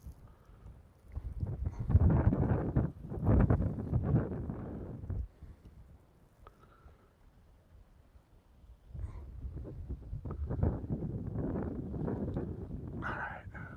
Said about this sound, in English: Damn, this wind is crazy.